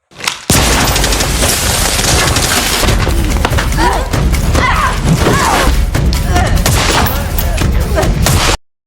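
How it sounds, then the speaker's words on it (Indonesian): Gunfire and heavy impacts in a film fight scene, a dense, loud, continuous barrage of booms and thuds with mechanical clatter, while a narrator talks over it throughout. "Sementara Dev berhasil menembak pria yang menjaga anaknya dengan tepat sasaran"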